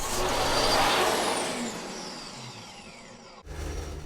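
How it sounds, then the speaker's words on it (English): Power saw cutting a piece of purpleheart wood for a sharpening jig, a loud whining rip that slowly tapers off, then a short pause before the motor noise picks up again. "Now we'll cut a piece of purple heart to fit the mortise."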